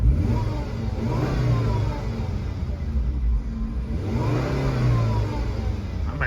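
A 2007 Volvo C70 T5 convertible engine on a test drive, heard from inside as a loud, steady mid-pitched drone that rises and falls twice through gear changes, with a faint high whine above it.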